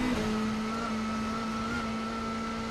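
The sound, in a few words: WTCC touring car engine note lowering on climb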